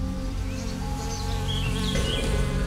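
A dense, continuous buzzing hum of many Australian bees close by, steady throughout with faint higher chirps drifting over it.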